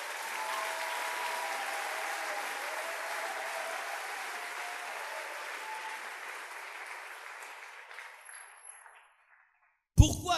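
A church congregation applauds together in sustained clapping that fades out over several seconds, with a brief loud sound right at the end.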